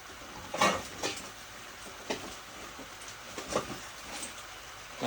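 Chicken in coconut milk (ginataang manok) with ginger, garlic and onion stirred in a pot, soft scraping spoon strokes at irregular intervals over a faint steady simmering hiss, close and without talk.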